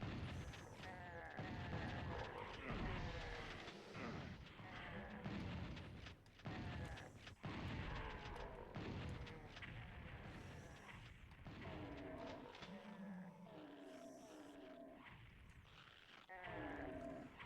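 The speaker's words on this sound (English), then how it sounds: "Sounds like some infighting going on there." Growling, bleating monster cries clash amid booming thuds and bursts of gunfire, a chaotic, continuous battle of monsters infighting in Doom for the PlayStation (1995), heard at a distance, fairly quiet overall.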